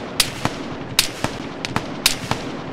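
Rifle fire from soldiers in the military video game Arma 3, a string of sharp, separate cracks at irregular intervals, some nearer and louder, others fainter in the distance, with no talk over them.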